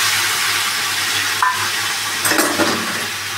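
Tomato, ginger, garlic and onion paste hits a hot pan for a Bengali egg curry, giving a steady close sizzle and fry hiss with a few stirring scrapes near the middle and end.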